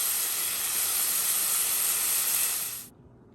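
Round steak strips sizzle and hiss steadily in a hot pan after being flipped, a loud, dense frying crackle that cuts off abruptly near the end, with no talking over it.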